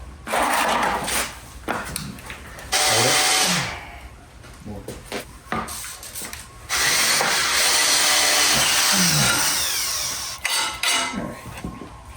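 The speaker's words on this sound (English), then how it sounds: "Slow and oil. Be nice to my drill bits." A drill bores slowly through metal with oil, whirring in repeated bursts, grinding loudly, stopping and restarting several times with clicks in between.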